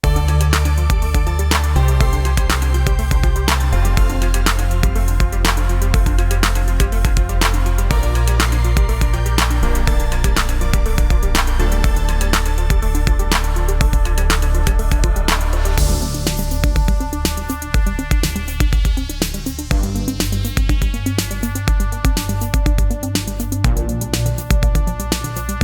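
A retro 1980s-style synth-pop track built from Serum synth patches, with a pulsing bass, punchy drums and layered bright synths playing continuously with no vocals.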